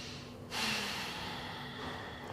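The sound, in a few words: slow breathing during yoga stretch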